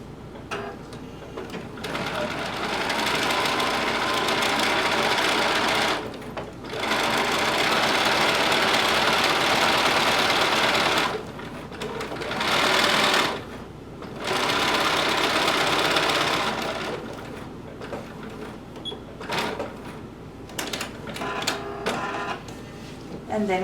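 A sewing machine stitches fabric for a top with leather accents, running in several sustained loud whirring bursts separated by short pauses, with talking heard during the quieter stretches.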